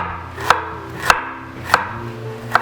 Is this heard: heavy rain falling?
no